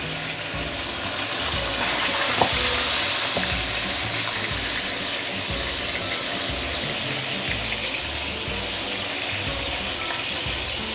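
Fish pieces fry in a non-stick pan, giving a steady, close sizzle that stays even throughout with no talking.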